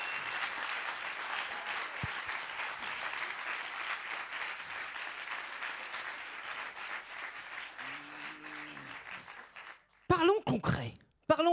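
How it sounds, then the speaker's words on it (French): Audience applause for performers at an improvised dubbing comedy show, a dense wash of clapping that gradually fades; near the end a brief tone sounds and a voice speaks. "On peut les applaudir!"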